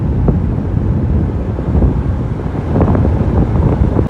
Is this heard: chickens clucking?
no